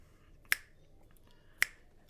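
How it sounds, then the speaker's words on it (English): Two crisp finger snaps, close and clean, about a second apart at a steady pulse in a quiet room during a classical guitar lesson on reading music. "I'm going to snap my fingers at a steady pulse."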